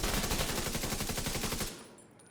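Rapid automatic gunfire in a video game, a dense, loud burst of evenly spaced shots lasting under two seconds before cutting off into a fading tail.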